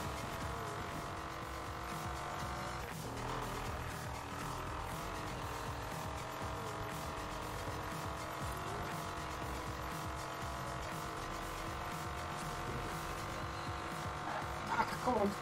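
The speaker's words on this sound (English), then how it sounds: "Street race." Cars in a video game street race give a steady engine drone and road roar throughout, with faint tire noise and a brief louder burst near the end, while people talk over it.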